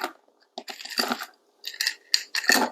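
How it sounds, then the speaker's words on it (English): Ice cubes dropping into a cocktail shaker while a Clover Club cocktail is made at a home bar, a few separate clattering bursts of cubes striking metal, close and sharp, with quiet gaps between. "Once you've given a little bit of a shake, then you want to add ice in here."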